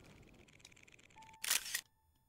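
A camera shutter clicks once as a selfie is taken in the video game Zelda: Tears of the Kingdom, a brief bright snap following a short tone over quiet game ambience.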